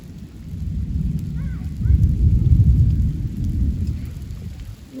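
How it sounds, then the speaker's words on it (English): A summer thunderstorm with steady rain and a deep, rolling rumble of thunder that swells in the middle and then eases, heard outdoors near the edge of the storm. "Okay, it's just rain, love."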